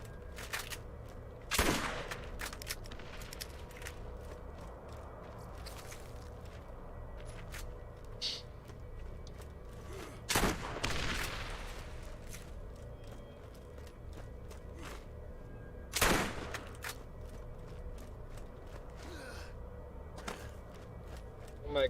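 An enemy firing rockets in Borderlands: three sharp blasts spaced several seconds apart over a quiet mechanical background, with a player talking in between.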